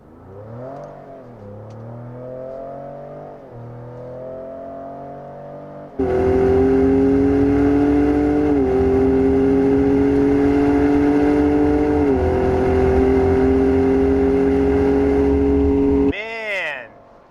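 A 2019 Ford F-150 Raptor 4x4 SuperCrew pickup, about 6,000 pounds, pulls from a standstill; a low idle rumble gives way to a sudden loud, sustained engine roar with rising revs through gear changes, cut off abruptly near the end.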